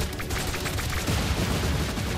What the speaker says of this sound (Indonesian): Dengan tembakan-tembakan yang juga kini sedang dimainkan di arah tengah sana.